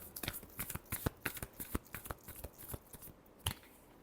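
A deck of tarot cards is shuffled close by, producing a quick, irregular series of soft papery slaps and riffles, quiet and alone for a few seconds.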